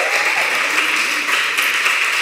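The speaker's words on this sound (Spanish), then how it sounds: "Un aplauso, por favor" Dense audience applause after a performance, steady and fairly loud throughout a couple of seconds, with no talk over it.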